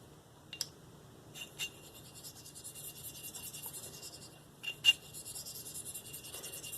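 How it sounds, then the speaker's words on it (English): A Spyderco Native 5 Lightweight knife with a Maxamet steel blade is drawn across a sharpening stone in very light passes, making soft, faint scraping strokes with a few sharper scratchy ticks over a quiet background. "I'm just going to do some reduction passes to try and minimize that burr."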